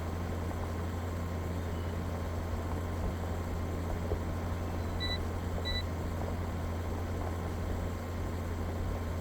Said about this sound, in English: It beeped at me like, oh, the end of the field is here.